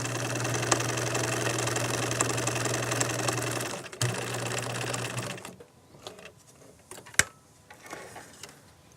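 A sewing machine runs a practice line of stitches in a steady close whirring hum for about five seconds, then stops, leaving quieter clicks, a sharp snap and fabric handling.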